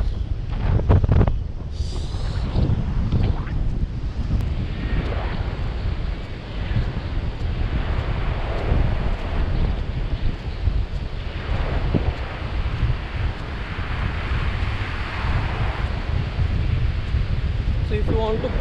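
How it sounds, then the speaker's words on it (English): Steady wind buffeting the microphone over a continuous wash of surf at Karde beach, Ratnagiri, loud and constant throughout, with brief voices near the start. "this is the Karde beach and we are heading towards"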